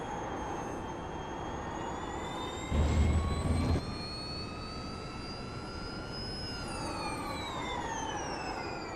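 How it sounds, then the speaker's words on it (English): In the iRacing simulator, the Porsche Mission R gives off a steady high electric whine whose pitch holds, then climbs and falls later, alongside a brief low rumble partway through. "And I will say the whining of the engine is"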